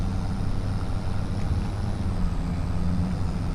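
A tractor in Farming Simulator 25 hauls a huge 22,000 litre trailer, its engine droning in a constant, heavy low rumble that stays steady and loud the whole time.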